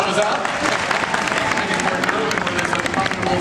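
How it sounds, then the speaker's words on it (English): Audience applause at a special effects show at Universal Studios Hollywood, dense steady clapping from a crowd with cheering and babble mixed in throughout. "let's give them both a big round of applause for helping us out"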